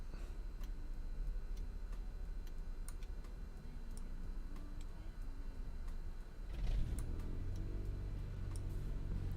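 Switch clicks tick over a steady cockpit hum in Microsoft Flight Simulator 2020, then a propeller aircraft's engine starts about two-thirds through, bringing a louder low rumble that keeps running to the end.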